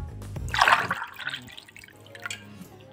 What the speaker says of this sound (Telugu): ఒక గ్లాస్ పోస్తున్నాను.